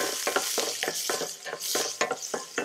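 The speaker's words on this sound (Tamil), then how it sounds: "வெங்காயத்தை போட்டு நல்லா வதக்கணும்." Chopped onions frying in oil in a pan for a Tamil manathakkali kai kuzhambu, with repeated scraping stirs over a steady sizzle, close and fairly loud, no talk.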